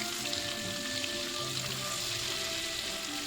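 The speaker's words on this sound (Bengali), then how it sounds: "এখন আমি ফোড়নের সমস্ত মশলাটাকে নেড়েচেড়ে একটু ভেজে নেব।" Whole spices, including small cardamom pods and cumin seeds, sizzle in hot oil as they are stirred, giving a steady, fairly quiet frying hiss with faint stirring noises.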